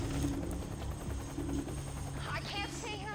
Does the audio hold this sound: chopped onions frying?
no